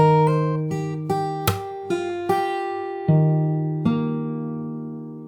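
Fingerstyle acoustic guitar plays a short phrase: a handful of plucked notes and bass tones ringing out one after another, the last ones left to fade, heard up close with no talking.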